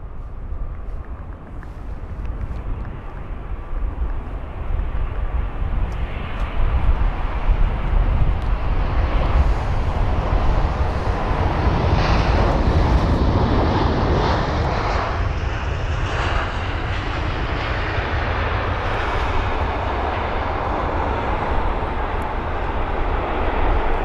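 A British Airways Airbus A319 at London Heathrow gives a loud, sustained jet engine roar that swells and holds steady for the whole stretch, with some wind rumble mixed in.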